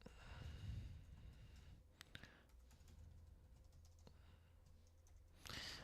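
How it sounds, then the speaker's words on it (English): Steady keyboard typing with scattered key clicks over a low background hum, fairly quiet and continuous, with a louder burst near the end. "I'm also typing up a little post for those inside the paper traders."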